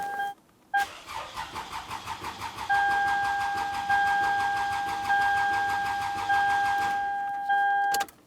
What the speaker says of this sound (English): we're going to turn the car on and try to get it to start